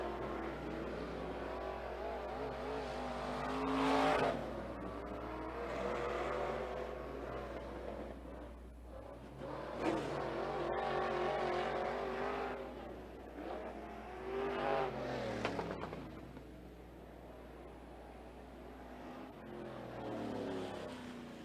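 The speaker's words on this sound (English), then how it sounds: "Your first three drivers to come out for hot laps." IMCA Sport Mod race cars run hot laps at Sunset Speedway, engines rising and falling in long swells as they pass and circle the track at a distance, with intermittent faint talk.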